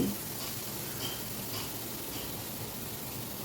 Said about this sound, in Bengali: বেটে রাখা মশলাটা গ্রাইন্ড করে রাখা মশলাটা আমি দিয়ে দিচ্ছি।